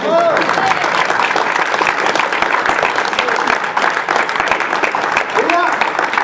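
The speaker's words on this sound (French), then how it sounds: "Ah, tu peux applaudir, mais trop fort." Audience claps steadily throughout a live outdoor fire-and-forge show, with a dense continuous patter and a voice speaking over the clapping.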